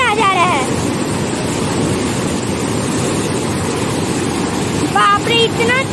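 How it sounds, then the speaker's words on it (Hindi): Fast water rushes loudly and continuously at Hirakud Dam in Odisha, a broad roaring wash with wind buffeting, while a person speaks at the start and again near the end. "वाओ फ्रेंड्स आप देख सकते हैं इतना ज्यादा तेज ये पानी है"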